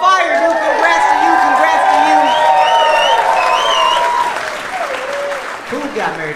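Dense, loud applause from a stand-up comedy audience fills the room and then thins out near the end, as a few voices carry over the clapping.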